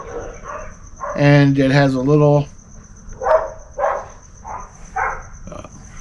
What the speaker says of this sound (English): That's my neighbor's dogs.